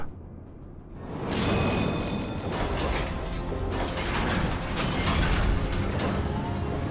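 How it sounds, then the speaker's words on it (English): An elevator mechanism in Final Fantasy XIV grinds and clanks as it rises, a continuous loud mechanical rumble with ratcheting, gear-like texture that swells after a quieter first second. "Which means it's time for a long-ass elevator ride up."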